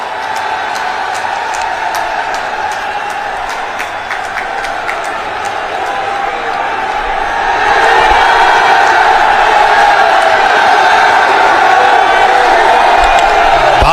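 A large crowd at an outdoor political rally for Modi and Yogi Adityanath roars with sustained cheering and shouting, swelling louder about halfway through and staying dense to the end.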